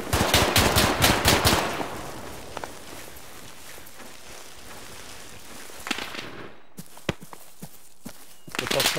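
Gunfire from a house in the military shooter ArmA 3: a rapid burst of loud rifle shots opens, then scattered single cracks and distant reports ring out over ambient noise, ending in another close volley.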